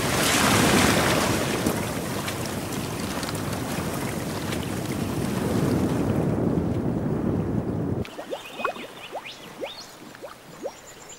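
Floodwater courses through a river red gum forest in a dense, roaring rush that stays loud and steady for about eight seconds, then drops away abruptly to quieter water sounds.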